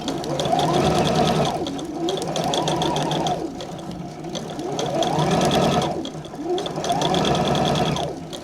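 A sewing machine stitches a dress lining in three long runs with brief pauses between, steady and close, with no talking.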